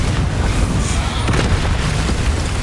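A Confringo blasting spell explodes in the video game Hogwarts Legacy as a loud, dense, rumbling burst that fills the whole moment without letting up.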